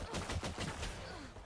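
Pistol gunfire in Valorant, a quick burst of several sharp shots in rapid succession, loud and close, with no talk.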